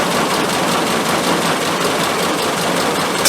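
A car engine idling after SU carburettor tuning, a steady loud rough rumble with no change in pace across the short stretch.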